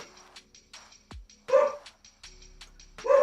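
A dog near a house barks at people passing on the street outside, giving two sharp, loud barks about a second and a half apart amid quieter yips and household sounds.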